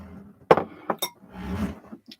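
Beer glasses clink and knock as they are handled and set down during a beer tasting, a few sharp close taps with quieter handling noise between them.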